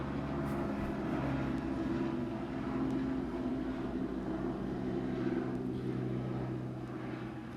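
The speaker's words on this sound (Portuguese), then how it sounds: "Passando um helicóptero aqui." Helicopter passing overhead outdoors, a steady low rotor and engine drone holding at moderate loudness throughout with no talking.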